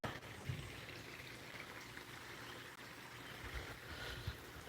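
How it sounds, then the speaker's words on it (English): A small babbling brook flows outdoors, a soft steady trickle and wash of water that carries on faintly from start to finish. "A little babbling brook going across"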